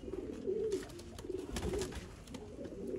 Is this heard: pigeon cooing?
yes